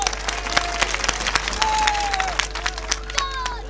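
A mushaira audience claps in a sustained round of applause, sharp individual claps standing out over a crowd murmur, with a steady low hum underneath.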